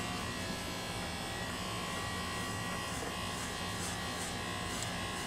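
A handheld electric hair clipper buzzes steadily and continuously at low level as it cuts hair around the head, with no talk over it.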